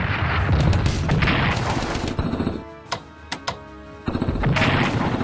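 Artillery shelling in a WW2 Pacific strategy game, a heavy rumbling barrage of booms and blasts that fades to a few sharp isolated impacts before roaring back, loud and close.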